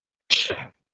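A single short, sharp sneeze, close and fairly loud, bursting out of silence and fading within half a second.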